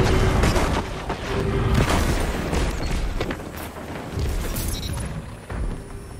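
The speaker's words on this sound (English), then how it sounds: "I took out somebody with a grenade I just randomly threw." Game combat in Destiny's Mayhem Crucible mode produces a dense run of booming blasts and crackling bursts, including a thrown grenade's explosion, loud and close, with near-continuous rumble and a few sharper hits.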